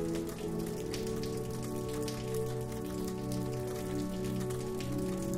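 Rain falls steadily in a village, a dense, even patter of drops striking surfaces with a soft constant hiss and no voices.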